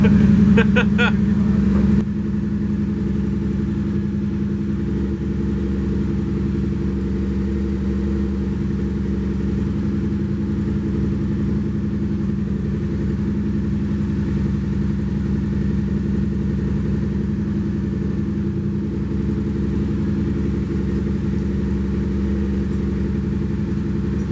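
A 2019 Yamaha MT-07 motorcycle fitted with a Black Widow exhaust runs on a dyno, its engine holding a steady, loud drone throughout after a brief louder burst at the start.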